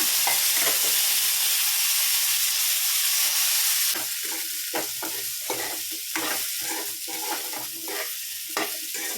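Cassava fries with garlic and pepper in a loud, hissing pan that settles into a softer sizzle, with repeated close scraping and stirring strokes.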